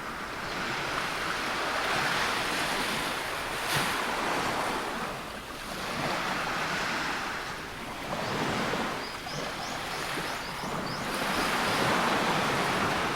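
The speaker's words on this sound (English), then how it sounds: "I hear the sound of the waves." Ocean surf at Coney Island, New York, rolls in close and loud, with steady washes of breaking waves swelling and fading every few seconds under gusty wind noise, and no talk.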